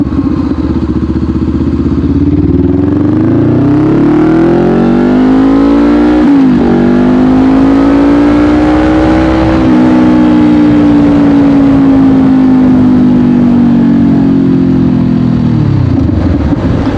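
A 2020 Honda CBR500R with an aftermarket exhaust revs loudly and close up, the engine note climbing, holding steady, then dropping away over a sustained throaty run with no talk.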